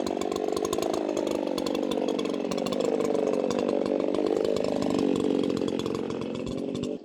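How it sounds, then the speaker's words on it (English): A loud ported chainsaw roars steadily up close, its engine pitch wavering as it bites through locust logs, continuous for the whole stretch. "Now this ported saw especially is loud as a mother"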